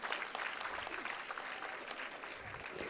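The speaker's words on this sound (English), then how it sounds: "Let's give her a big round of applause." A school prize ceremony audience applauds a student topper, a dense, steady wash of many hands clapping at moderate distance throughout, with no break.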